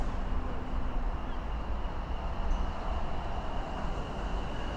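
A Greater Anglia passenger train stands at a station, giving a steady low rumble and hum with a faint constant tone, moderately quiet and unchanging, with no clear voices.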